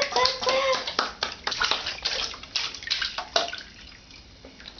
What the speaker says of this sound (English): He just poured some water on himself.